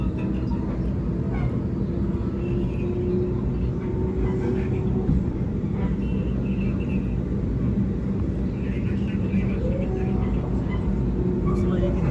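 A constant low rumble and roar of a Sydney Metro train on the Bankstown Line running along the tracks, steady throughout, with faint muffled voices underneath.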